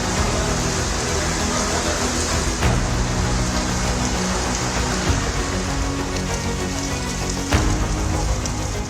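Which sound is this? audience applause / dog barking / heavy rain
heavy rain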